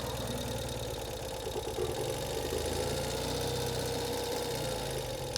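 A 2022 Ural Gear Up motorcycle with sidecar idles nearby, a steady, even mechanical hum and rumble holding at moderate volume throughout without revving.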